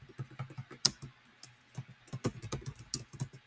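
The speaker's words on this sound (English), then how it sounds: "I just type in whatever comes to mind" Quiet, irregular keystrokes tap on a computer keyboard in short bursts with small pauses, a few clacks standing out more sharply, all faint and close.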